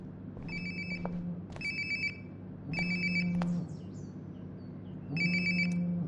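Mobile phone ringtone in the game Life is Strange: Before the Storm, four separate ring bursts with short gaps between them, moderately loud over a low hum, with no talking.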